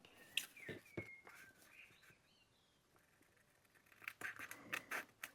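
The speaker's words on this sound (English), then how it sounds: "with your favourite pair of scissors" Scissors snipping down the middle of folded paper for a rustic vintage botanical zine, a few sharp close crisp cuts early on, a quiet pause, then a quicker run of small snips and rustles, with faint chirping in the background.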